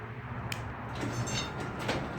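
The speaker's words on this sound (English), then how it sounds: "Go ahead and back up and show you the operation of the door." A repaired residential garage door with a new reinforcing bracket runs through its travel, giving a steady low rumble and faint rolling hum with a couple of light clicks, fairly quiet and smooth, no talking.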